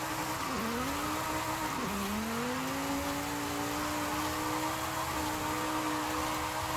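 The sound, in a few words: car driving in the video game Forza Horizon 5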